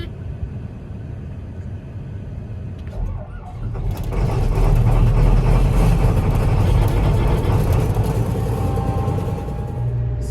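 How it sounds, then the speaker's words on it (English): A combine harvester engine cranking and catching on a cold 40-degree morning at corn harvest, a low mechanical rumble that swells into a loud, steady roar after a few seconds. "we'll see how the combine wants to start"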